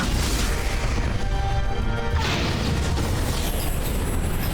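Abominations blowing up during combat in the fantasy game Dragon Age Origins, a dense, loud run of crashing booms and bursts layered over game noise.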